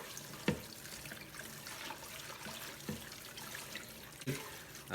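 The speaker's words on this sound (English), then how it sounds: "Dump this water I've already in it." Blanching water is dumped from a pot of green beans into a sink, a steady faint pour and splash with a few louder knocks from the pot.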